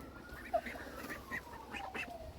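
A grey-looking Cayuga duck gives a few faint, short calls at a moderate distance in a wintry poultry yard, spread over a couple of seconds against low background noise.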